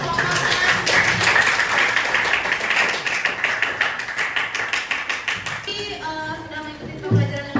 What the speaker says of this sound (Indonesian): Kita tepuk tangan untuk kelompoknya.